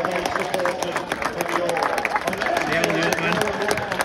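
Scattered clapping from a football crowd at an Altrincham FC home game as the goalkeeper is applauded, steady and moderately loud under general crowd hubbub and nearby chatter.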